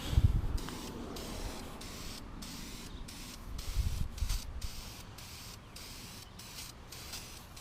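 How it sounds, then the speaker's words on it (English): A shaken spray paint can lays a light first coat on BMW shadow line trim, giving short, even hissing bursts separated by brief pauses, quiet and close with no talk. "Now you just do a real light first coat"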